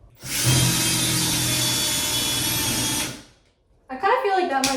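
A power drill bores into an apartment wall for a shelf, a loud, steady whine lasting about three seconds before cutting off, followed by a brief voice.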